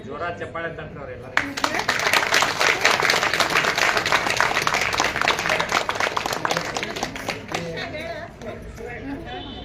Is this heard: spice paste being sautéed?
no